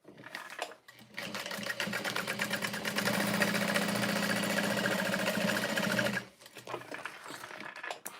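Sewing machine stitching closed the bottom of a custom bag lined with waterproof canvas, a steady rapid mechanical whir running for about five seconds with brief starts and stops before and after, close and loud.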